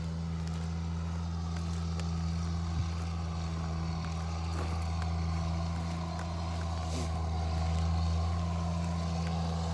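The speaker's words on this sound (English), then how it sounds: "I shall wait for the tractor to go past because he might actually drown us out" A tractor ploughing an old stubble field rumbles past with a steady, loud, low engine drone that holds throughout, swelling slightly as it nears, with no talking heard.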